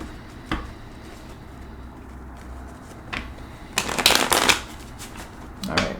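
Tarot cards being shuffled, with a few soft riffles early on and then a louder burst of rapid flapping shuffles, plus a brief final riffle near the end, with no talking.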